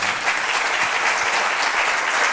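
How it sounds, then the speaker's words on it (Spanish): A studio audience at an evening political talk show in Murcia gives steady, dense applause, loud and continuous throughout with no speech over it. "habéis aplaudido tanto que habéis fundido la pantalla."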